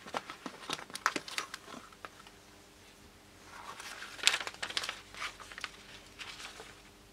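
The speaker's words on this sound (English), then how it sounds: "Transparent plastic film underneath this is very difficult to get off." Transparent plastic film is peeled off its backing in irregular crackles, crinkles and sharp rips, close and fairly quiet, with a louder tearing burst partway through.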